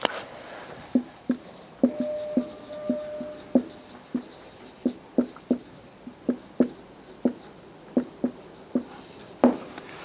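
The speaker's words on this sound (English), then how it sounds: "I'm going to write that" Chalk or marker writing on a board during a lecture, a series of sharp taps and short strokes in an irregular rhythm, close and clear.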